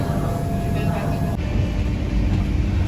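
Shatabdi Express passenger train on the Kathgodam–Delhi route running steadily, a loud continuous rumble and rattle heard close up from inside, with no voices.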